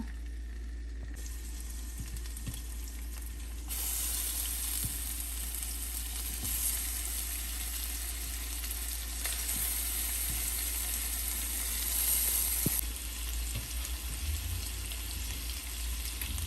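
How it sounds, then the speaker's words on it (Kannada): Chicken drumsticks shallow frying in hot oil for a Kerala-style fry, a steady loud sizzle holding through the whole stretch, with a few soft knocks as pieces settle and no talking. "ಶಾಲೋ ಫ್ರೈ ಮಾಡೋಣ ಸೊ ಎಣ್ಣೆ ಬಿಸಿಯಾಗಿರುತ್ತೆ ಸೊ ಇದು ಒಂದೊಂದೇ ಪೀಸಸ್ನ ಹಾಕೋಣ"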